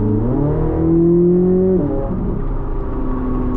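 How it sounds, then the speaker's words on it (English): A 2023 Chevrolet Corvette Z06 3LZ with a naturally aspirated mid-mounted V8 revs hard from inside the cabin. Its pitch climbs loudly before dropping abruptly, then settles into a lower, rougher drone. "There's nothing like a naturally aspirated V8 mid-engine vehicle."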